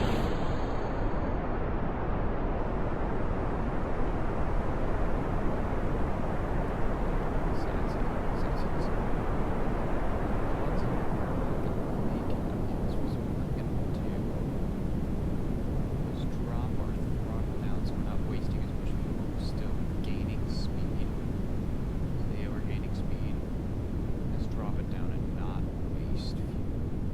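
A rocket engine throttling up for launch in Kerbal Space Program: a steady, loud roaring rumble that holds for the whole stretch while a person talks over it.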